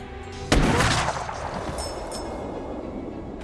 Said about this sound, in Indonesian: sniper itu langsung menembak semua tentara tersebut secara membabi buta